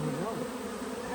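Loud, dense buzzing of many honeybees close by at a hive, a continuous droning hum with shifting pitch.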